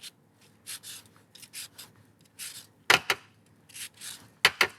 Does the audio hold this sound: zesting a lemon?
yes